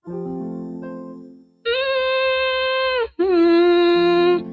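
A voice hums sustained tones, first a low steady note, then two brighter, higher held hums separated by a short breath, loud and close.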